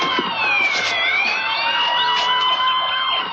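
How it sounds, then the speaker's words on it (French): Several emergency vehicle sirens wail together, rising and falling and overlapping, as they respond to a major fire after a tunnel explosion. They are loud and continuous with no talking. "Un feu important à en juger par toutes ces sirènes."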